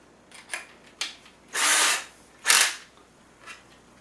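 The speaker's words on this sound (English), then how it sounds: "So you just get yourself a drill bit." A power drill with a drill bit bores into the plastic fin of a lawn dart: a few short clicks and taps, then two loud one-second whirring bursts, followed by a faint tap in a quiet room.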